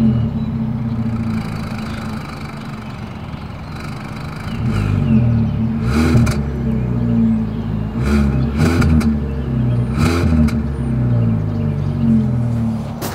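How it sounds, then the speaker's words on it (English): 2024 Kia Soul GT-Line with chrome exhaust tip, engine idling steadily before several revs rise and fall in short bursts, close and loud. "As always, here is that exhaust clip."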